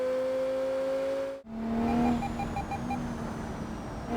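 A BMW car engine in BeamNG.drive hums with steady tonal whines, briefly cutting out before resuming at a slightly different pitch.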